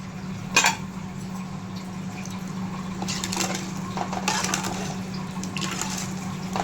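A utensil scrapes and clinks against a cooking pot in a few short bursts while a steady low hum from the stove or hood continues.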